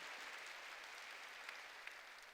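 A church congregation claps together during a sermon, giving a thick, sustained wash of hand claps. It stays fairly even throughout, with no voice above it.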